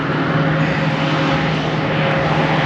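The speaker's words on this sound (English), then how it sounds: "Let me let this big tractor go by here." A big tractor drives past nearby outdoors, a loud, steady engine roar with a low droning hum that fills the whole stretch without pause.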